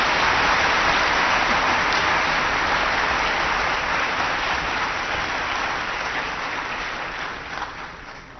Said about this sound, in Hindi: चेस पावर हाउस के थोड़ा ताली तो बजाओ